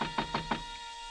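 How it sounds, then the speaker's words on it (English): Four quick knocks land on a door in an even rhythm, close and sharp, followed by quiet. "so I got over to the door and knocked."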